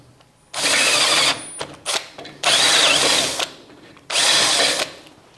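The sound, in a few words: power drill boring a hole in wood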